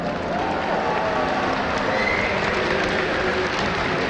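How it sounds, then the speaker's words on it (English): A large audience at the WCS Season 2 Finals esports event applauds in a sustained, dense wash of clapping with some cheering mixed in, steady throughout. "Give a big round of applause to Jaedong of Team Evil Geniuses."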